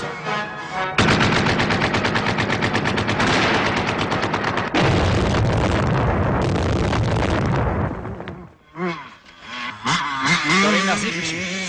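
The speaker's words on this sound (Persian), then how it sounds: "صدای شلیک که پاسگاه ماست." Gunfire and machine guns rattle in a war scene from an Iranian film. Dense, loud bursts of rapid shots run almost continuously, briefly cut out, and then voices speak over the fading noise.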